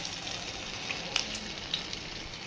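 Thotakura vadalu, amaranth leaf fritters, frying in hot oil: a steady, soft sizzle throughout with a few faint crackles and pops.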